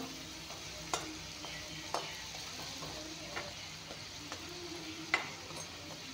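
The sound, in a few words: chopped shrimp frying in a pan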